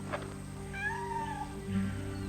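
A domestic cat gives a drawn-out, wavering meow at close range, steady and clear over a faint background hum, with a brief softer sound near the end.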